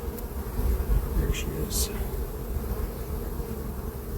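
Honeybees buzz steadily on a brood frame pulled from a hive, a close, continuous insect drone with a few sharper passes, while a person talks briefly over it.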